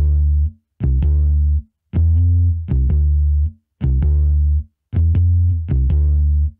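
Scarbee Rickenbacker virtual bass processed with a maximizer, FabFilter EQ and compressor plays a simple repeating line of thick, slightly gritty notes in regular phrases separated by short pauses, loud and alone.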